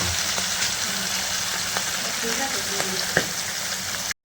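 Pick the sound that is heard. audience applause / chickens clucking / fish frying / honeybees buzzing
fish frying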